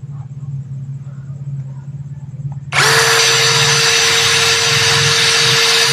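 A battery-powered drill-type tool spins up abruptly at speed 2 and runs steadily at a loud, constant high whine with a sustained tonal pitch, preceded by a low hum.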